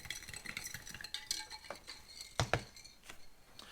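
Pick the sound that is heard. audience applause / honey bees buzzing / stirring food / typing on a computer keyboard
stirring food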